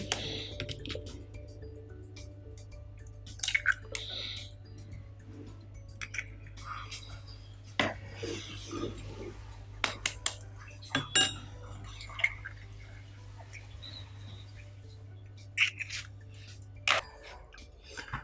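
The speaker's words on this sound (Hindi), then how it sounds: "अंडों को अच्छी तरह मिक्स करें ताकि इनके जर्दी और सफ़ेदी अच्छी तरह मैश हो जाए" Two eggs are whisked in a bowl with a utensil, giving light irregular clinks and taps against the bowl over a low steady kitchen hum, with scattered louder knocks.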